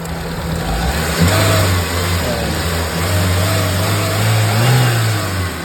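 A Mitsubishi Lancer engine, shaking roughly, rumbles loudly nearby, its pitch climbing and dipping as it is revved repeatedly over a steady idle.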